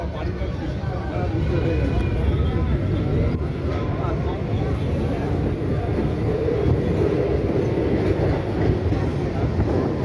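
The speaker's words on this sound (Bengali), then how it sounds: "তো হরিপাল যাচ্ছে আমাদের ট্রেন।" Crowded local train running toward Haripal station on the Tarakeswar line during Shravan, a steady rumble of wheels and carriage rattle inside the coach, with passengers' voices murmuring underneath.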